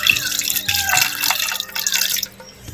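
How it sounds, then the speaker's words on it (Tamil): About 200 ml of water is poured onto beef pieces in a pressure cooker with peanut oil for a beef roast, a close, splashing pour of a few seconds that stops abruptly. "மாட்டு இறைச்சி நல்லா வேகிறதுக்கு தண்ணி 200 மில்லி சேர்த்துக்குவோம்."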